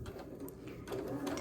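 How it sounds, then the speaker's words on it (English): A sewing machine stitching fabric at close range, giving off a continuous fast mechanical whirr with a rhythmic chatter that stays steady and moderately loud for the whole short stretch. "I'm going to continue stitching."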